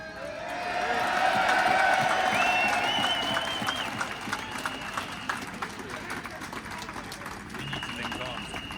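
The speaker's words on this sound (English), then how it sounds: "can we have the biggest cheer ever for the Met Police" A crowd at a London farming rally roars and cheers for the Met Police, a broad swell of voices and whistles that peaks early, then settles into scattered clapping as the noise fades.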